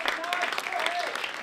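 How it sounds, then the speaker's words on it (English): A crowd at a poetry reading briefly applauds a volunteer, with a quick patter of clapping heard under a speaking voice. "Round of applause for Doug"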